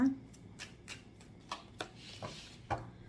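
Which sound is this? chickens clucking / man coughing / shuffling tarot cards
shuffling tarot cards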